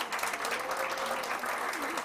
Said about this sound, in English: Are you clapping for the DG or?